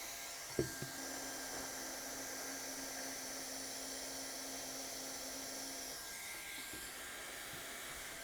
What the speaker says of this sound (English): I'm going to weld this whole thing down.